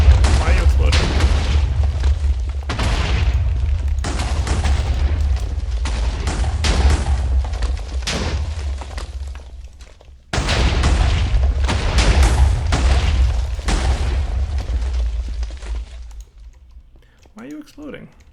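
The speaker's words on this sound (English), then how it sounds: "I'm hearing explosions." Explosions in modded Minecraft with IC2, several booming blasts in two long bursts with rumbling decay, loud and continuous, followed by a quieter stretch where a voice briefly talks.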